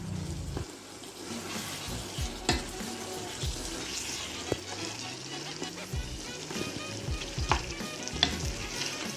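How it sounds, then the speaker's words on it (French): A wooden spoon stirs bolognese sauce in a pan, bringing a low simmering sizzle with irregular scrapes and knocks against the pan, close and fairly quiet. "et là vous mélangez"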